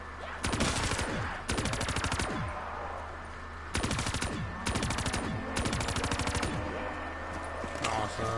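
Rapid automatic gunfire from weapons in the zombies mode of the video game Black Ops 3, loud bursts of several seconds separated by short pauses, with a steady background hum.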